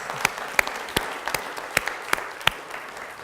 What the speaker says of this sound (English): Ladies and gentlemen, a warm round of applause for the Numismatic Literary Guild, exemplified by its Clemy Award winners.